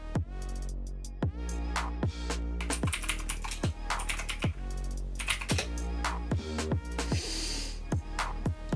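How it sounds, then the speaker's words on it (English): Rapid, steady clicking of keys on a mechanical keyboard, crisp and close, with sharp individual keystroke transients running continuously through the clip and no talking. "Let's see how much this mechanical keyboard will help me in my typing speed."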